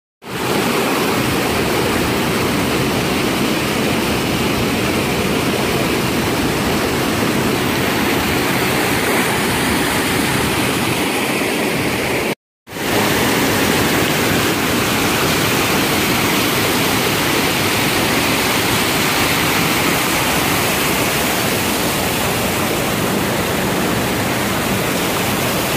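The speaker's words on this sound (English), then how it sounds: "now we've got our own like little private waterfall" Small waterfall on a hike in southern Utah, a steady, loud, broadband rush of falling water that fills the whole scene, heard alone with only a brief dropout midway.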